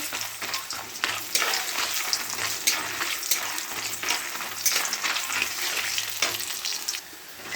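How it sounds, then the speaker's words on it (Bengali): Bori, Bengali lentil dumplings, sizzle steadily in hot oil in a pan for shukto, a continuous close crackle with occasional sharper pops and no voices. "শুক্তো রান্না করব, তার জন্য প্রথমে বড়িটা ভেজে নিচ্ছি।"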